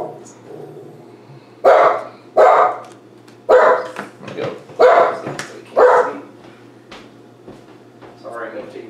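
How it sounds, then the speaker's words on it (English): A pet dog barks indoors in several loud, sharp bursts spaced about a second apart, with someone talking around and between the barks. "Well, there goes the dog."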